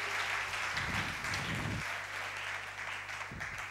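A church congregation applauds during a lively service, bursts of clapping rising and falling in waves with crowd noise underneath, fairly distant and moderately loud.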